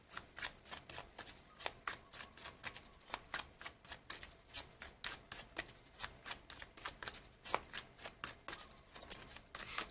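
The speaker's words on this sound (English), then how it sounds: "I'm just going to pull more cards for this advice here." Tarot cards being shuffled and pulled for a reading, a quick steady series of papery riffles and snaps continuing close and clear for about ten seconds without speech.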